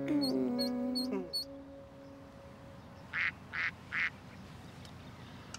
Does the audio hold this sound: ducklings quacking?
yes